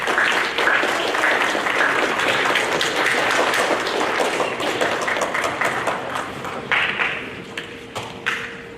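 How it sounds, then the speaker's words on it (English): Warm, full applause from an audience at an eighth-grade awards program honoring students rolls on steadily, then thins into scattered claps and taps near the end as a voice briefly surfaces. "Round of applause for those students."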